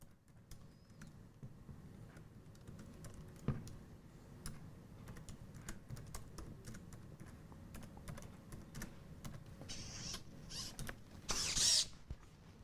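A bionic prosthetic hand types on a computer keyboard, hunting and pecking in quiet, irregular clicks and taps with occasional slightly louder keystrokes and faint mechanical creaks.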